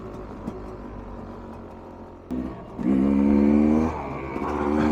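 Rieju MR 300 Pro two-stroke dirt bike engine idling low under ambient noise, then a sharp bump and a buzzy rev that rises and holds before settling, fairly close.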